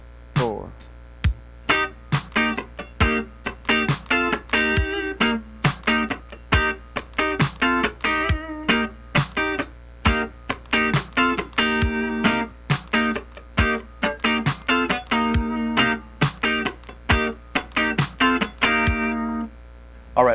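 Funk rhythm guitar part played slowly on electric guitar, with crisp choppy chord stabs and muted scratches in a steady, syncopated groove, a brief count-in at the start.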